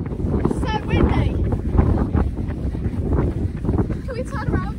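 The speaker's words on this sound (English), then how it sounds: "So windy." Strong wind buffets the microphone outdoors on a British fell-running race travel day, with a continuous, loud roar and gusty rumble throughout and faint voices underneath.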